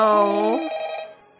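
Harmonic electronic phone ring in a VRChat horror escape map called Purify, a single loud ring burst that fades out within a second.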